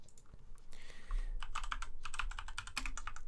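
Quick bursts of close keystrokes tap out a device name on a computer keyboard, a dense run of sharp clicks with a brief pause near the start and no talking.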